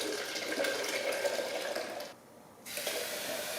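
Water pours steadily into a container for hand-washing laundry at an off-grid setup, a continuous close rushing splash that cuts out briefly near the end before resuming.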